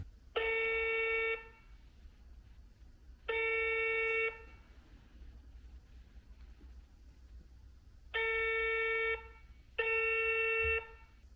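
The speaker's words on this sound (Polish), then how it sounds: "Spróbuję zadzwonić jeszcze do tych dwóch, którzy nie odebrali telefonów." Ringback tone of an unanswered phone call: four evenly spaced electronic rings, each about a second long, clear and alone against quiet background hiss.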